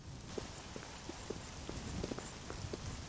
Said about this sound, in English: It is nice sounding rain, isn't it?